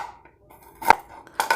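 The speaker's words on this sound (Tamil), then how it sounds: "இப்போ வந்து நம்ம இப்படி கட் பண்ணிக்கலாம்" A knife slicing bitter gourd (pavakai) into rounds for pachadi, with a few sharp cutting clicks against a board, two clustered strikes near the end. Close and fairly quiet, with no talking.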